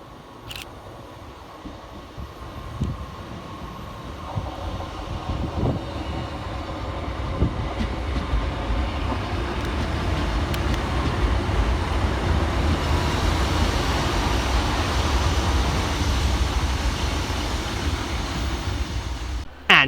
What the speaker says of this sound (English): here comes a replacement for it in the form of 150-006